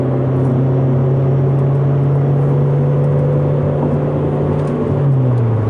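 Saab with a muffler delete pulling hard through the gears, steady loud engine drone that holds near 5,500 rpm and then drops in pitch as the next gear engages, with road and wind noise underneath, no talking.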